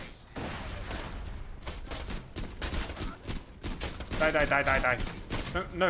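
Rapid gunfire in the video game Borderlands 2, dense bursts of repeated shots under excited talking from players, growing heavier toward the end.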